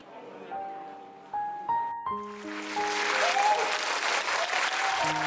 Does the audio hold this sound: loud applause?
yes